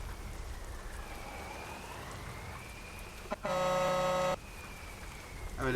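Rain falls steadily in Euro Truck Simulator 2 around an Iveco Turbostar truck hauling a Fruehauf tipper trailer, a constant soft hiss broken midway by a loud, sustained horn blast of about a second.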